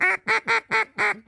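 A mallard duck quacking six times in a steady rhythm, loud, nasal and close, each call short with a brief gap before the next.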